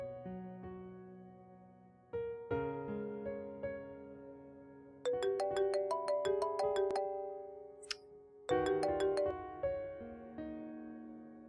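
A mobile phone plays a melodic ringtone that keeps ringing unanswered, its tune stopping and restarting in several bursts of a repeating electronic pattern, with no talking.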